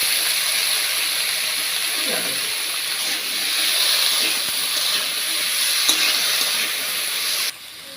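Cut raw potatoes and slit green chilies sizzle in hot oil in a pan, a steady close hiss with occasional stirring scrapes, running evenly before dropping off abruptly near the end.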